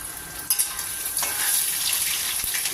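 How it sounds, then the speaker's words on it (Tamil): Ginger sizzles in hot oil for rice upma, a steady close hiss with a couple of soft clinks as it goes into the pan and no voices. "இப்போ முதல்ல இஞ்சியை போட்டுக்கலாம் எண்ணெயில் அதோடய ஃப்ளேவர் நல்லா இறங்கட்டும்"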